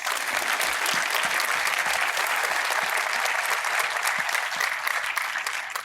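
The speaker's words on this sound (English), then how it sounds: "Please have a round of applause." An audience at a space-science talk applauds steadily, a dense even wash of clapping from many hands that holds loud and unbroken throughout with no talking over it.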